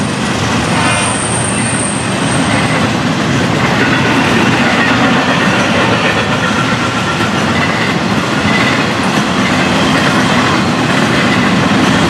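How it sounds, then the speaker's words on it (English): Florida East Coast (FEC) freight train with double-stack container cars rolling past close by, a steady loud rumble of wheels and clickety-clack on the rails, continuous throughout with no talk. "Double stacks on this train."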